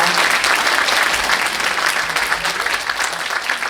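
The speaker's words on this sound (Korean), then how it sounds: "박수 한번 크게 주시면 대단히 감사하겠습니다" Sustained applause from an audience at a book launch celebration, a dense, steady wash of many hands clapping at full volume throughout, with no voices over it.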